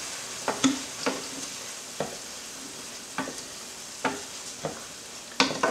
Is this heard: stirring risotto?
yes